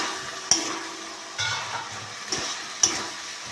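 Potatoes are added to a frying spiced gravy for potol alur jhol, giving a soft sizzle with a few sharp clinks and brief thuds of stirring.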